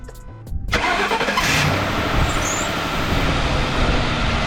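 A Ford Crown Victoria in Death Valley heat cranks briefly then catches and settles into a loud, steady idle rumble close by, with no talking.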